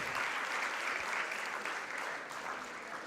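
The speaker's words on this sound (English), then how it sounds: "Let's give her a round of applause." Audience applause at a youth leadership symposium, steady and fairly full clapping that eases slightly toward the end.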